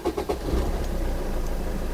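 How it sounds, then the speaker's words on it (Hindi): A car engine turns over with a few quick cranking pulses and then settles into a steady, close idle, with the clutch and brake held down; no one talks. "अब इस सब चीज़ के बाद आप कीजिए गाड़ी को अपनी स्टार्ट, क्लच और ब्रेक दबा के"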